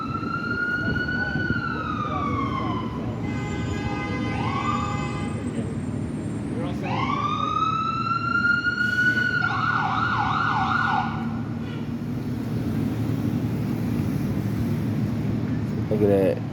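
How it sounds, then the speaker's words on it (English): An ambulance siren approaching a car crash scene on Columbus Ave at Dimock Street, wailing and yelping in rising and falling sweeps over steady traffic rumble, growing louder as it nears. "It's probably the ambulance coming now."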